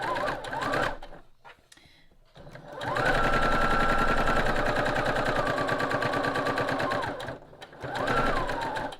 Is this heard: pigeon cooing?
no